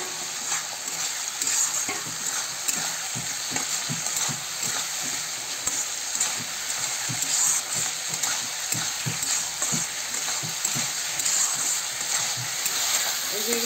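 Potatoes and raw banana pieces stir-fry in spice paste with oil, a continuous close sizzle broken by frequent scraping stirs of a spoon against the pan.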